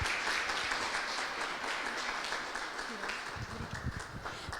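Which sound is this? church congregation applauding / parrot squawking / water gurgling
church congregation applauding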